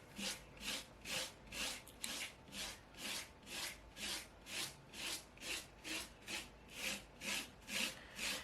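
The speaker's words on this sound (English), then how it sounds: "just take your toothbrush and you're just going to gently rub those drills and get all that debris and stuff off in between the crevices" A toothbrush scrubs back and forth over the resin drills of a diamond painting, a steady rhythmic swish of bristles repeating roughly twice a second, soft and close with no voices.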